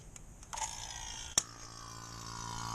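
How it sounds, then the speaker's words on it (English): A vacuum pump for servicing a Pontiac Sunfire's air conditioning during a compressor replacement clicks on and runs with a steady mechanical hum, a brief sharp clack near the start, close and fairly quiet, no talking. "just turn on your vacuum pump"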